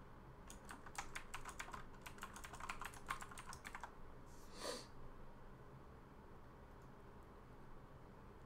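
Rapid clicking of a mechanical keyboard being typed on, a close, quick burst of keystrokes lasting a few seconds, then a short snort or breath and quiet room tone.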